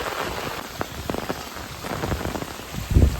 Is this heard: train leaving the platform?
no